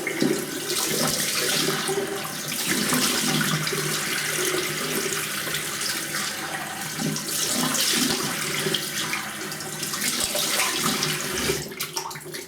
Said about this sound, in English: I'll rinse it off with cold water.